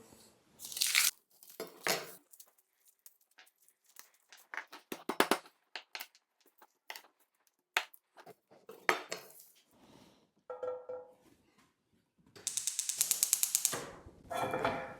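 A cleaver knife chopping on a cutting board while preparing eggplant parmigiana, sharp irregular knocks and clacks in uneven bursts, close and crisp with quiet gaps between strikes.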